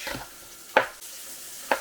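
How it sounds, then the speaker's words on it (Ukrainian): Two sharp knife chops through an onion land on a cutting board, spaced apart, with a faint background hiss between them. "Цибулю нарізаю не дуже маленькими шматочками."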